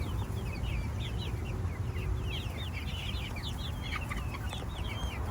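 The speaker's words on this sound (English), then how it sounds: "Those are the meat chickens." A flock of meat chickens clucks and chirps busily in a farm yard, with many overlapping calls at a moderate distance over a low rumbling background.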